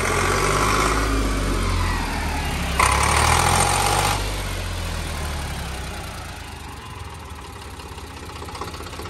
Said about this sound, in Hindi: ट्रैक्टर चालू हो गया है।